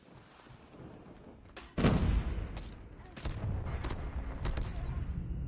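Gunfire in the mobile shooter Call of Duty Mobile: a sudden loud burst followed by a string of rapid, sharp shots fired in quick bursts, steady and close throughout.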